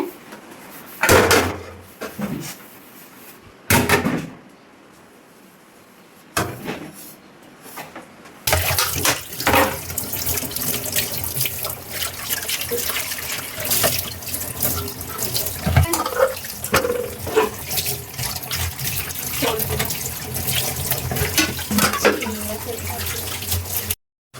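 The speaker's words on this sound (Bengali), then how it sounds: "তো বড় বউ ওদিকে থালাবাটিগুলো ধুয়ে নিচ্ছে" Dishes washed at a kitchen sink under a running tap, with a few short splashes and clatters at first, then a steady rush of flowing water mixed with clinking plates and scrubbing for most of the stretch.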